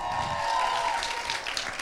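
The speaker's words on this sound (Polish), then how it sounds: "Wielkie brawa!" Audience applause at the Miss Wenus 2013 beauty pageant awards ceremony in Kortowo, a steady crowd clapping that carries through the whole moment with a sustained tone running underneath.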